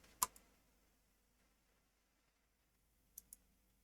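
A computer mouse gives a couple of faint, crisp clicks, a single one near the start and a quick pair later, in an otherwise quiet room.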